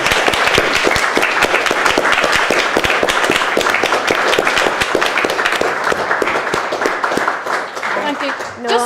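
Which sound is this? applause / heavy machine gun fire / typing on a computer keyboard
applause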